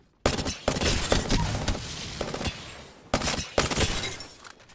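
A Prowler gun fires in select-fire mode in Apex Legends, sharp sustained volleys of rapid shots in two main bursts with a short gap between them, loud and close.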